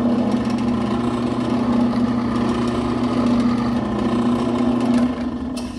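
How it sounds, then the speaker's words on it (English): An electric drill hums steadily with a constant motor whine for several seconds, close by, drilling into a welded die after center punching, then its pitch drops slightly near the end. "I'm gonna turn on my drill."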